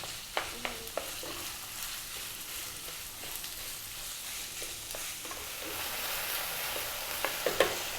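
Ground beef frying in a pan over above-medium heat, a quiet continuous sizzle with a few soft clicks and spatula scrapes scattered through, growing slightly busier toward the end, no talking.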